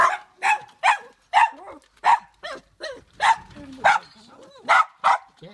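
Cavalier King Charles spaniels barking near and loud, about a dozen sharp repeated barks in an uneven rhythm with short gaps, some yips and a brief whine between them.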